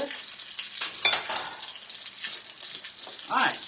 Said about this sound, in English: Okay, these are frying good.